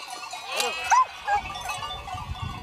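Sheep driven over an Alpine crossing to high pastures give a few close, wavering bleats with cowbells clanking, and a low rumble of movement runs underneath.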